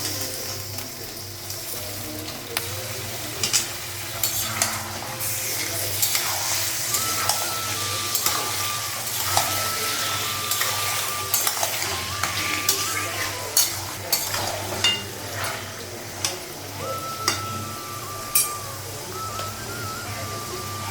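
Goat meat frying with fried onions in a pot, a close, steady sizzle broken by repeated scraping and clinking as a utensil stirs the pieces.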